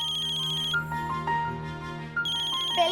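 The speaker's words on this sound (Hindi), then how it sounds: "पहले फोन तो उठा।" A telephone ringtone plays in a home, a bright repeating electronic melody that sounds clearly and steadily before dropping into a softer tonal passage and then returning.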